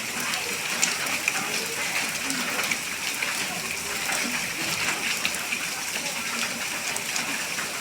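Steady rain falls and patters on surfaces in a continuous, even wash of sound under dark monsoon clouds, faint and unbroken throughout.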